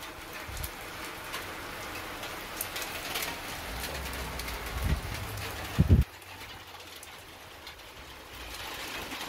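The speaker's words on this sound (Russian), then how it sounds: "и дождь пошел." Light rain beginning to fall outdoors over a vegetable garden on a hot day, a soft steady patter with a few louder nearby drops and thumps, birds faintly audible in the background.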